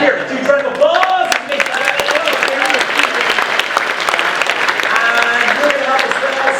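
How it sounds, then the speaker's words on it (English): Audience clapping for a volunteer at a music show finale, lively applause from a crowd mixed with cheering and voices over it, sustained throughout. "Give Kieran 2 rounds of applause."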